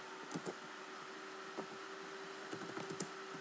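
Keys on a computer keyboard are tapped in short bursts of quick clicks, faint and close, over a steady low hum with pauses between the groups.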